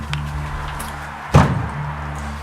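In an abandoned building, doors swaying in the wind give a single sharp knock and thud against a low, hollow background hum; close and brief.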